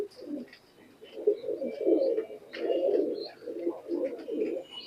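Pakistani teddy high flyer pigeons coo inside a loft, a run of repeated throaty pulses rising and falling in a steady rhythm, close by and clear with no speech.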